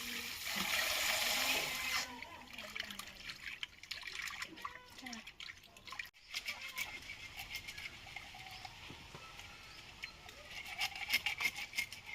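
Water runs from an outdoor tap as fish are washed, first as a loud steady rush for about two seconds, then as a softer, uneven trickle with splashes and splatters.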